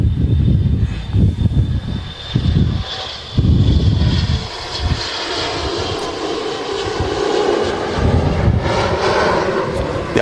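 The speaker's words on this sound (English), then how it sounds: "it's a Scandinavian CRJ going out." A Scandinavian CRJ jet departs Manchester Airport, its engines giving a loud, steady roar that fills the whole stretch without a break, with no voices over it.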